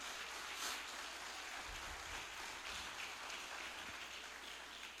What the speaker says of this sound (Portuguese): Você pode colocar mais força nessa palma.